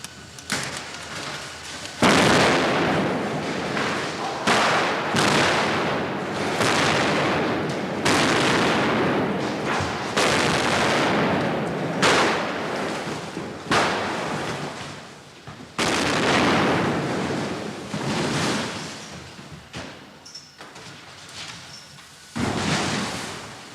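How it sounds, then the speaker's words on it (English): Special effects explosions on the Superman 3 film set: a series of loud, booming blasts and gunfire-like bangs repeating every few seconds, each followed by rumbling decay, with no talk. "There's an air of military tension as the special effects team plot the explosion."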